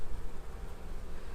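Honey bees hum around a hive during an apiary inspection, a continuous low buzzing drone that swells and dips slightly in loudness, heard close and alone for a brief moment.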